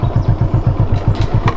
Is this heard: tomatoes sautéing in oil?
no